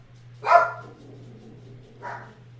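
A dog barks twice indoors in an office, one loud close bark followed by a softer second bark a moment later, over a low steady electrical hum.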